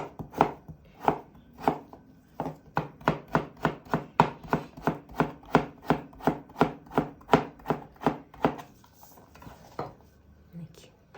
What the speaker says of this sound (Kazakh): Картопымызды солай майда кубик етіп турап аламыз.